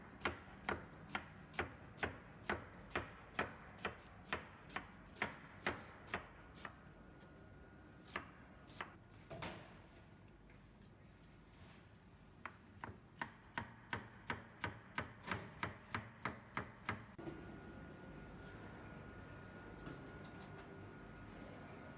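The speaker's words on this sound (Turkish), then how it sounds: "Bütün kara lahanalarımızın hepsini bu şekilde ince ince doğradıktan sonra" A knife finely chops collard greens on a cutting board in quick, even strokes, pausing midway and then resuming in a fast run of sharp taps.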